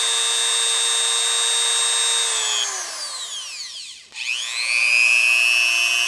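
A Goxawee rotary tool whines at speed 5, a high steady tonal hum that dips and spins down briefly, then revs back up to a bright, loud whine.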